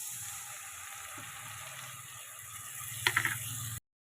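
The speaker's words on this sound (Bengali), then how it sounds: "মশলাটাকে এর সাথে ভালো করে ভাজা ভাজা করে নেব" Masala spices frying in oil in a pan for a mutton kofta curry give a faint, steady sizzling hiss throughout, with a short clatter near the end before the sound cuts off.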